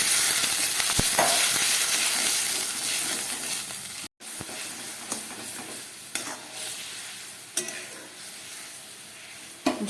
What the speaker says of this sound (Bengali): ভাজাটা আমার একদম রেডি হয়ে গেছে। এবার দিয়ে দিচ্ছি জল।